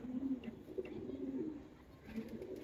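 Pigeon cooing at a racing-pigeon loft in Mirpur, a low, soft, continuous throaty coo repeating in a steady rhythm, fairly quiet and close, with no talk over it.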